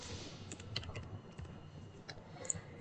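Quick, light clicks of a computer keyboard as a name is typed, a short faint run of keystrokes in a quiet room.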